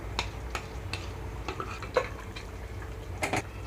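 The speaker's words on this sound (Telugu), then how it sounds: "ఇప్పుడైతే ఇందులోనే ఈ మసాలా పేస్ట్ అంతా వేసేస్తున్నాను" Masala paste goes into chicken in a pot: soft, scattered clinks and scrapes of a utensil against the pot with light stirring, quiet and close, no talk.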